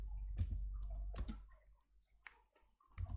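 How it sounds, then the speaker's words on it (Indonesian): Keys tapped on a computer keyboard during Python scripting in a text editor on Ubuntu, a few scattered clusters of clicks with pauses between, fairly close and moderately quiet, with no talking. "Kita ketikkan nano"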